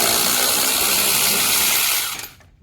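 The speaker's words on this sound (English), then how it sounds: "Now we're going to loosen the top bolt" A power tool with a ratchet-like drive whirs steadily and close while loosening 15 mm brake caliper bolts on a Can-Am Gen2, then cuts off abruptly and goes quiet.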